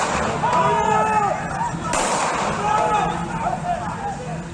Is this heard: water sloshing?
no